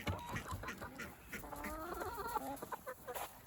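Backyard chickens cluck and murmur in short, overlapping calls, moderately close and fairly soft, with a few sharper notes mixed in across the stretch.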